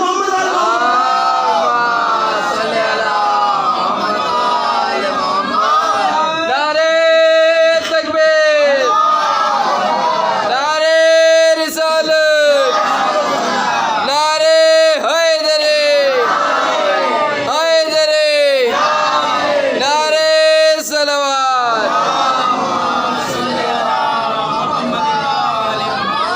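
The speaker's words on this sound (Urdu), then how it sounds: "صلوات پڑھیں محمد والے" A congregation at a majlis recites salawat aloud together, the massed voices swelling in repeated rhythmic bursts with crowd chatter between them.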